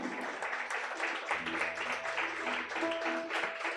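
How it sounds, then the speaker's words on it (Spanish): Congregation clapping in a church service, a faint, steady patter of applause with organ-like tones sustained beneath it. "Dale un aplauso al Señor."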